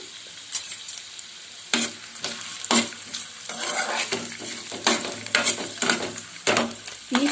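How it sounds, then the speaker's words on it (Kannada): Chopped onions sauté in oil for a red chilli chutney, with a close, steady sizzle and regular loud spoon strokes scraping around the pan roughly every second. There is no speech. "ಎರಡು ಮೀಡಿಯಂ ಗಾತ್ರದ ಈರುಳ್ಳಿಯನ್ನು ಹೆಚ್ಚಿ ಸೇರಿಸ್ತಾ ಇದ್ದೀನಿ"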